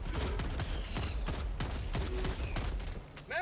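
Breaker shotgun in Helldivers 2 fired in rapid succession, a string of loud, punchy blasts roughly every half second with mechanical clatter between shots.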